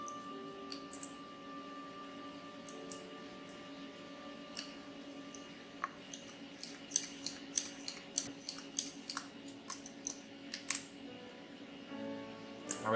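An Opus1 gouger shaves oboe cane in a quiet room, producing faint repeated scraping strokes and sharp little clicks that quicken into a steady rhythm, with a low background hum and no speech.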